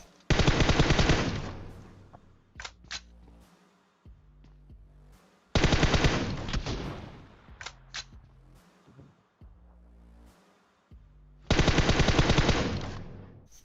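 Automatic gunfire rips out in three long, loud bursts in a 16-versus-squad PUBG Mobile match, with quieter single shots and game sounds in the gaps between.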